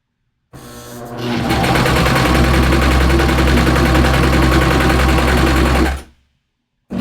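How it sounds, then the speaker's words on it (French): A Babylock Vibrant serger sews a lettuce rolled hem, starting abruptly into a loud, fast, steady mechanical whirr and rattle that runs for about five seconds, then stops, close up and without talking. "je vais commencer ma couture"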